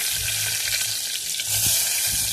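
Finely chopped garlic and tomato frying in a pan on a wood-fired chulha for a val bean vegetable dish, a loud continuous hiss broken by low stirring scrapes in bursts, with no one talking.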